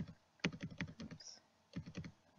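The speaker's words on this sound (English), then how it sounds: "use my arrow key to get it all the way to the bottom" Computer arrow keys are tapped in two quick bursts of light, close plastic clicks with a short pause between them.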